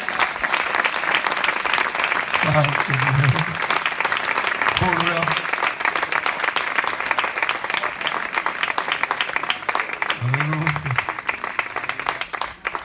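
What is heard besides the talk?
church congregation clapping hands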